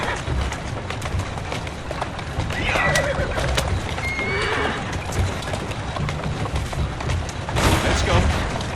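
A horse in the Assassin's Creed Syndicate video game whinnies, with a clear high neigh near the middle and another later, over steady clip-clopping hooves and busy game ambience.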